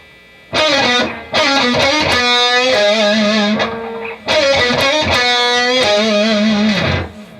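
A heavily distorted electric guitar plays a riff twice, sustained gritty notes with bends and vibrato, loud and close with no voices.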